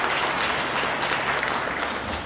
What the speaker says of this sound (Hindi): अपने तीनों साथियों के लिए जोर से ताली बजा कर के लिए